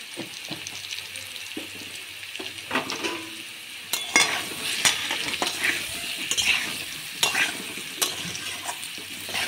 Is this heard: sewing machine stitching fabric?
no